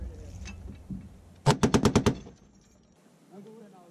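A Browning .50 caliber machine gun fires a short burst of about six heavy, rapid shots at range targets, loud and sharp, with brief voices before and after.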